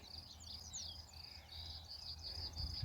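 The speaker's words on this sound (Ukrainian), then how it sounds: "Пташечки співають." Faint high birdsong chirps and trills repeat in a forest, layered over a soft insect buzz and low background rumble, with no talking.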